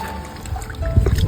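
Short watery sloshing and trickling as rice is rinsed with water in a pot at a village temple cooking area, brief and close, building toward a louder splash at the end.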